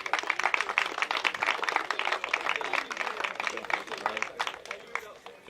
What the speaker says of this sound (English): I really want to give SMG and Viva a big round of applause for that